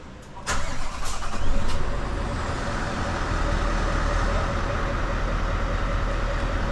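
A Scania 660S truck engine cranks and fires up from inside the cab, surging loudly for a moment before settling into a steady, deep, rumbling idle that holds to the end.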